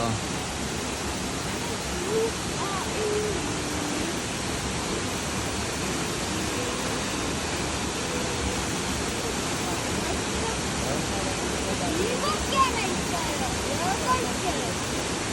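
Cheonjeyeon's first waterfall on Jeju, running full after heavy rain, gives off a constant broadband rush of falling water that stays even and enveloping throughout.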